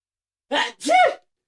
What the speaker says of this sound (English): control your sneezes